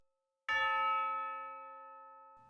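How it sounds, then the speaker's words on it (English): Orchestral tubular bells from the Synchron Prime Orchestra library sound a single clear, ringing strike that sustains and slowly fades over about two seconds, alone in a quiet mix. "these are tubular bells."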